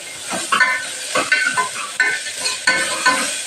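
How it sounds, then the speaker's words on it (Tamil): Chopped garlic and onion frying in a pan while being stirred, giving a steady close sizzle broken by several scraping stirs at irregular intervals. "வெள்ளைப்பூடு வெங்காயம் நறுக்கி வச்சது போட்டேன் ஃப்ரெண்ட்ஸ்."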